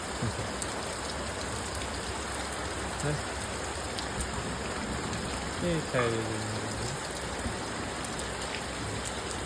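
Heavy first monsoon downpour at night in a Botad village, a continuous loud patter of rain on surfaces, with a few brief voices and a tonal sound rising over it midway.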